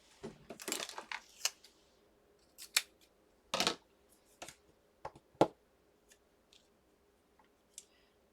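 Scissors snipping paper for a Christmas accordion scrapbook booklet, heard as a quick flurry of cuts followed by scattered single crisp snips, close up and with no talking.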